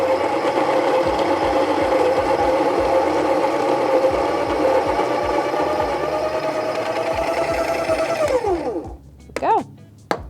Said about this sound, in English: So I'll place that on there and start grinding.